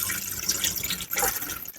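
Water being poured off seeds during water winnowing: a continuous close splashing, gurgling pour with brief surges, no talking.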